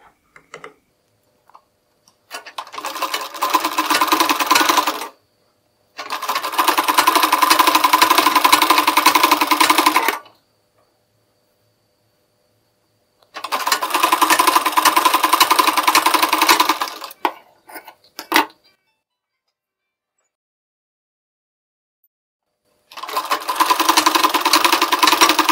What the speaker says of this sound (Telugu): ఇలా పావించి ఇలా దీని మీద ఒక స్టిచ్ వేసుకుంటూ రావాలి.